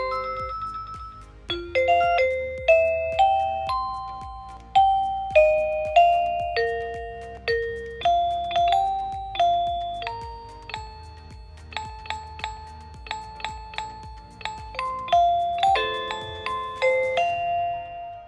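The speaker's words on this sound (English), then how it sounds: "it does have customizable ringtones that you can filter through" A Eufy video doorbell cycles through several different chime tunes, bright electronic melodies of ringing tones played one after another with short pauses between them.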